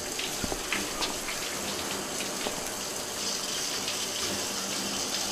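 A shower runs in the Max Payne 2 video game: a steady, even hiss of spraying water that continues unbroken throughout, with no talking over it.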